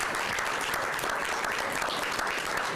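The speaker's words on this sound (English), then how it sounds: "so let's give them a round of applause" Dense, even applause from an audience at a high school board of education meeting, sustained clapping throughout with no talking.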